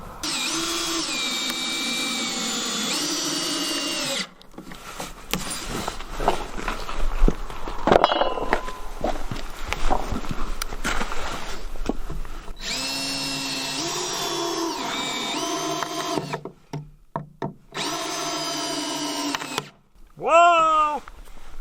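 A power drill drives lag bolts through old recycled wood into the base of a wooden hay box trough, with bursts of whirring motor and grinding and brief pauses between them, close and loud.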